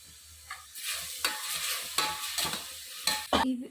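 Ground green chili paste frying in a pan for a minute while being stirred: close scraping strokes of a spatula against the metal over a steady sizzle, with occasional knocks, and no talking.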